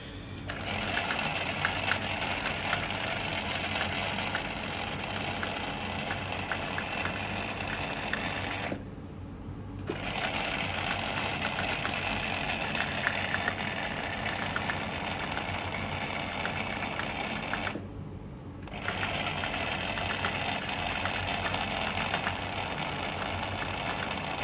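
A Singer 107w100 industrial sewing machine stitches eyelet embroidery with a steady, loud mechanical whirr and rapid needle chatter, running nearly continuously with two brief pauses.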